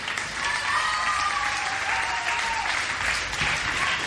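Sustained applause from an audience at an outdoor stage event in Panza d'Ischia, Italy, dense clapping filling the whole stretch at an even, lively level.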